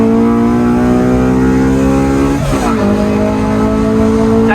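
A Honda K20 Type R engine holds a loud, steady high-rev drone that briefly dips and then climbs again, close by and continuous throughout.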